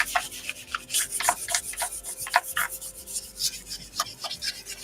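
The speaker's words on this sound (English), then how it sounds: "this was probably too fine of sandpaper for this application" Fine sandpaper rubbed by hand over painted wood, making quick repeated raspy strokes close up, uneven in rhythm and loudness.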